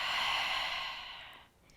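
An exhale during a yoga twist with a toe stand, a soft breathy rush of air that is close and steady, then fades to near silence at the end.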